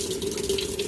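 Tap water runs steadily into a sink or tub as it fills for washing baby clothes, a close, continuous rushing stream with a faint tonal hum beneath.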